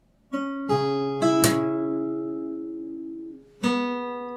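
Acoustic guitar notes picked one at a time in fingerstyle, four clear plucked notes ringing out near and alone, with a long sustained tone before a final pluck.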